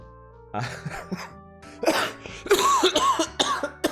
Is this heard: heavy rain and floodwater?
no